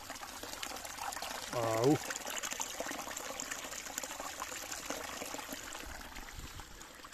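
Cold water flows steadily through a stream channel at a picnic spot near Sokobanja, a soft continuous trickle. A person briefly cries out once near the start.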